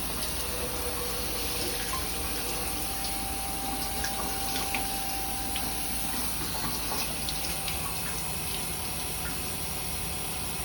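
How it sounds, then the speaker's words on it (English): Water running and gurgling down a sink drain, a steady close wash of flow that continues unbroken throughout. "See if we can get everything down the drain."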